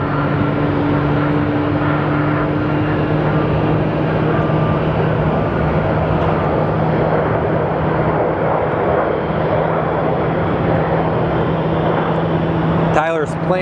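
Airliner noise at Phoenix Sky Harbor Airport, a steady broad engine roar with low tonal hum filling the whole stretch, rising briefly near the end as an aircraft passes close.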